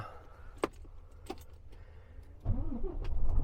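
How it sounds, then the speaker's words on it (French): Keys jingle faintly, then a truck engine cranks and catches, settling into a low idle at the end. "Donc mise en marche du moteur."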